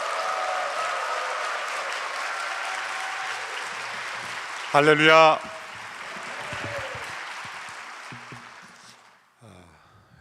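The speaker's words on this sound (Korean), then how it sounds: "나오실 때 큰 박수와 환호성으로 함께 모시겠습니다" A church congregation at a new-year revival service applauds and cheers to welcome a pastor, a broad wash of clapping that fades out, broken midway by a single voice calling out.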